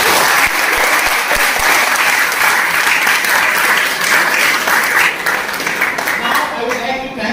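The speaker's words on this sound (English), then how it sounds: "applause." A large crowd gives loud, sustained applause at a college fest inauguration, a dense, continuous roar of clapping close and full for several seconds, thinning slightly toward the end.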